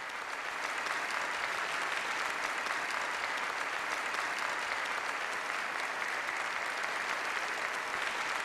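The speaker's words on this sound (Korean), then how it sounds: "전체 참가자들은 열광적인 박수로 환영했습니다" Sustained, enthusiastic applause from a large crowd at a 2018 North Korean state banquet, dense and steady throughout with no voices standing out.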